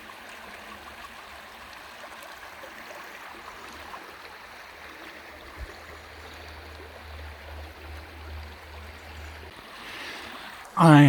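Rivelin river stream in Sheffield's Rivelin Valley flowing at a crossing point, a continuous broadband rush of water that swells slightly toward the end, with a loud close bump at the very end.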